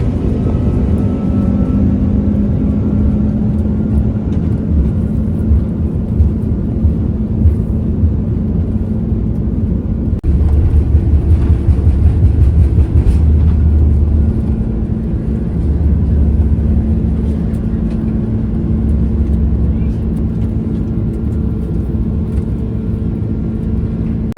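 A Shenzhen Airlines airliner taking off from London Heathrow, heard from inside the cabin as a loud, continuous engine roar and low rumble that swells partway through and holds steady.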